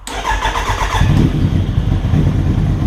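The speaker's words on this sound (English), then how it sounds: "Now, go ahead and start the bike." A Gen 1 Z motorcycle with its secondary throttle valves bypassed starts up: a quick whirring crank gives way to a loud, steady, rumbling idle close by.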